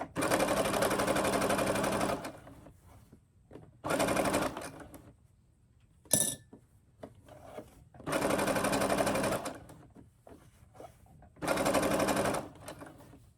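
A Brother sewing machine stitches fabric in four loud, steady bursts of about one to two seconds each, with quiet pauses and small handling clicks between runs.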